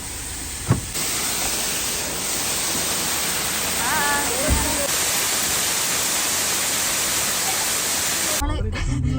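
A waterfall on a family trip near Kakkayam dam roars as dense continuous close rushing water. Brief voices and a few thumps break through the steady wash.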